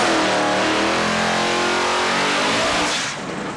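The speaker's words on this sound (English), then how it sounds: "Burnouts are done." Mustang and Camaro drag race cars doing burnouts at Lapeer International Dragway, a loud continuous roar of high-revving engines and tyre noise that fades slightly at the end.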